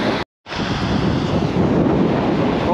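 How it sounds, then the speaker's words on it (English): Wind blows hard across a beach on the Dorset south coast, a loud broadband rush buffeting the microphone, briefly cut out, then gusting steadily with no talking. "That wind's got a little bit more up"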